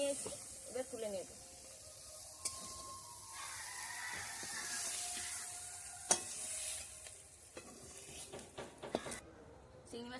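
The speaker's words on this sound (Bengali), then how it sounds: "চিংড়ি মাছটা ভেজে নেব।" Prawns frying in oil in a pan give a steady hiss and sizzle, with occasional stirring scrapes and clinks throughout.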